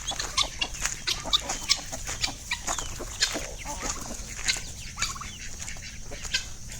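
A flock of chickens on a chicken farm clucks busily, with dense overlapping clucks and short calls close by throughout, loud and steady with no clear talk.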